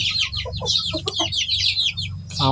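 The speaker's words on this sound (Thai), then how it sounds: "พอพันธุ์ไก่ขาว" Several white breeder chickens in a small country-style coop cluck and chatter close by in quick overlapping bursts over a low steady hum, with a sharper squawk near the end.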